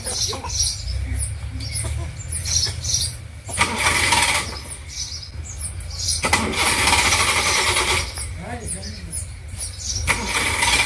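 A motor vehicle engine cranks and sputters over several attempts, loud and close, with starter bursts and rough idling, while people talk throughout.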